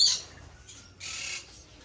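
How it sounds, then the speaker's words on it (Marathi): Parrots at an aquarium and pet shop give two harsh, shrill squawks about a second apart, close by over a quiet background. "हा वेगवेगळे प्रकारचे पोपट आहेत"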